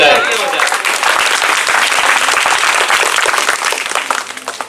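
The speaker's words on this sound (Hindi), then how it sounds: "जोरदार तालियां हो जाए" Loud, dense applause from an audience at a madrasa Independence Day celebration, steady clapping filling the whole stretch with a voice briefly heard at the start and some chatter mixed in.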